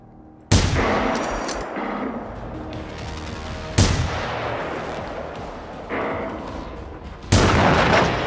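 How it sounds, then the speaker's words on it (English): Gunfire in the video game Generation Zero: several loud, sharp bursts strike at intervals, each followed by a long rumbling decay over a constant background din. "Who's shooting at me?"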